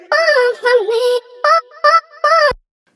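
Music loop from Splice played dry without effects: a bright, voice-like melodic phrase with sliding pitches and short breaks, loud and alone, cutting off abruptly at the end.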